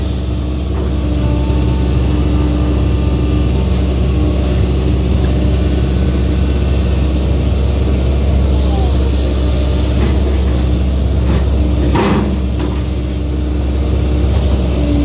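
Kobelco SK140-8 long-boom excavator digging and swinging, its diesel engine droning loud and steady throughout with a constant low rumble and occasional clanks, no speech.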